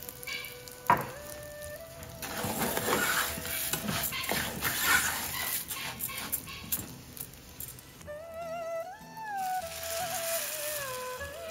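Rice fries in a pan with salt and garlic, giving a steady close-up sizzle and crackle; toward the end a cat meows repeatedly over the frying.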